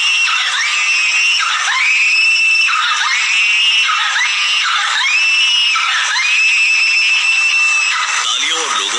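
A woman screams again and again in drawn-out, wavering cries with short breaks between them, loud and close, in a horror audio drama. The screams come from inside a box set alight during a magic show.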